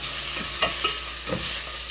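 Gourd and radish stir-frying in a pan, a soft steady sizzle with a few brief scraping stirs, quiet and close with no voices.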